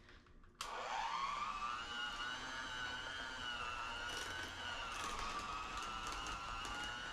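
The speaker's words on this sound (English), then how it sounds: "take your mixer and just mix that a little bit because the potatoes are still a little warm" An electric hand mixer whirs into slightly warm mashed sweet potatoes for pie filling, switching on abruptly and holding a steady, high-pitched motor whine with slight pitch wavers, close and alone without talk.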